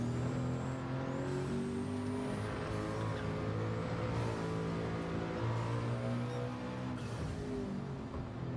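A race car in Gran Turismo 7 at Le Mans runs flat out along the Mulsanne straight, its engine a loud, continuous high-revving drone with slight pitch shifts and no talk.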